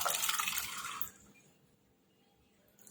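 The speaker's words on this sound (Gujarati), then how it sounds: "હવે પાણી હંગાત જ આપણે ચણાને એડ કરી દઈશું" Boiled chickpeas and their cooking water are poured into a dhaba-style gravy for a Gujarati desi chana curry, a loud splashing pour lasting about a second before falling to near quiet.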